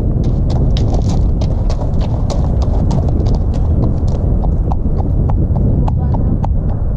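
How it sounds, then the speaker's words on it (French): Two horses walking on a dike give a steady run of close clip-clopping hoofbeats in an uneven walking rhythm over a rumbling outdoor background, with people talking in the clip. "il y a deux chevaux sur la digue"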